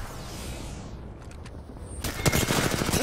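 Video game gunfire: after a quiet stretch, a rapid burst of loud automatic shots erupts and continues to the end.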